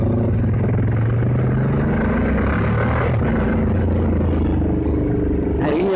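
Ducati Diavel motorcycle engine heard while riding on an open road, a steady low drone with rising and falling pitch as it pulls along, loud and continuous with no talking.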